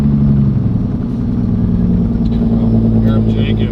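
A Cat 3406E diesel truck engine fitted with mufflers idles steadily with a deep, throbbing rumble, loud and close throughout, with a faint high whine near the end.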